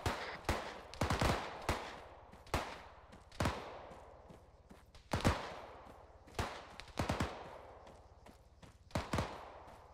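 Suppressive gunfire in the Arma 3 video game: repeated bursts and single shots of automatic weapons crack out at irregular intervals over a ten-second span, loud and close with a reverberant tail, and no talk.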